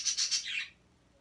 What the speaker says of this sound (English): those are my birds. Just chirping up a storm.